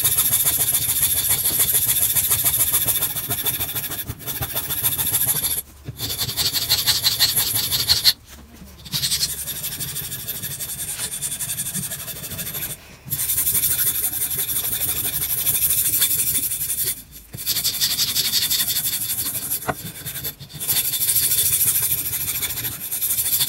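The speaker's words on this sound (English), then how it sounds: "now I'm going to take a file in the vise and even out all the edges" A hand file rasps steadily along the edges of a wooden swimbait clamped in a vise, producing continuous scraping strokes close by, broken by a few brief pauses, with no talking.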